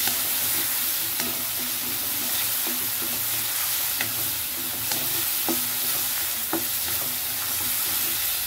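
Food seasoned with salt and turmeric fries in a pan with a dense, loud, continuous sizzle. Scattered clicks and scrapes of stirring sound close by, and no one speaks.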